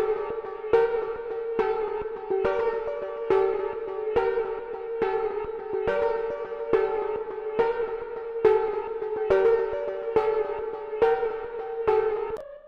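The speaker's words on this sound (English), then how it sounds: "you want to just use this slow triplet setting to get a sound like this" A momentary slow-triplet Gross Beat preset in FL Studio chops a sustained synth tone into an even, repeating stutter of gated pulses, loud and steady for about thirteen seconds with no voice over it.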